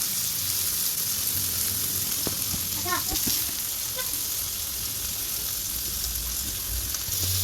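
Food roasting on a grill set over a home stove burner gives a steady, close hiss and sizzle throughout, with a few faint clicks and pops near the middle.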